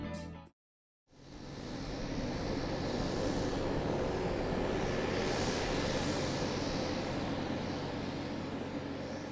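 The Kestrel prototype airplane in flight, heard from inside as a loud, steady, droning engine roar that holds evenly after a brief cut near the start, with no talking.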